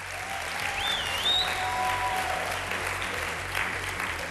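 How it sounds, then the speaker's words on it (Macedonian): An audience at the Macedonian Idol gala show applauds a singer, with dense, sustained clapping from a large crowd and a brief whistle rising above it. "уште еден аплауз за Дејан ако може"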